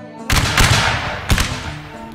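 A volley of musket fire from an infantry firing line in the Mount and Blade game, heard as a loud crackling burst of overlapping shots followed by a second sharp crack about a second later.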